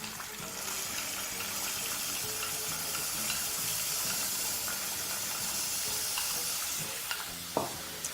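Garlic, ginger and star anise sizzle steadily in hot olive oil in a pan, a bright continuous hiss with a faint clink near the end.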